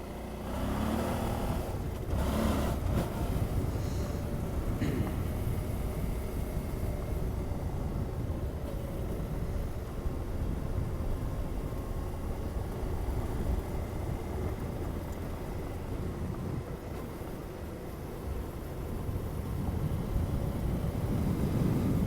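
A Suzuki V-Strom 650 motorcycle rides along dirt roads, its engine and road rumble forming a steady, close, unbroken drone with wind noise and no talking.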